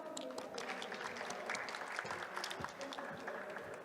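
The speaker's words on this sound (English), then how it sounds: "Let's give it a round of applause to Aerohauler." An audience claps in a steady wash of applause after a startup pitch at a conference pitch event, a faint voice or two mixed beneath the clapping throughout.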